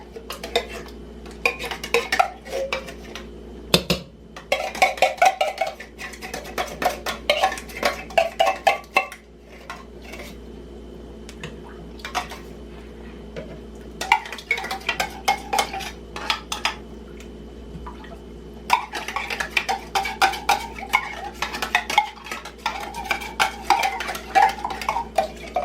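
Canned cream of celery tipped into a pot of dressing and stirred, giving repeated clinks and scrapes of a spoon against metal in irregular bursts, close and fairly loud, with short quiet gaps between.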